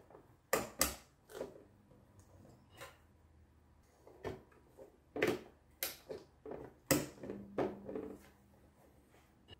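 Metal retention brackets of an Intel 1151 CPU socket on a motherboard being unlatched and lifted, giving a series of close, sharp clicks and creaky snaps spread unevenly over several seconds.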